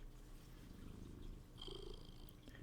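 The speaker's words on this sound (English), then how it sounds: "purring like a machine again" A content male cat purring steadily and softly up close, a continuous low rumbling drone with a faint higher rustle partway through, and no voices.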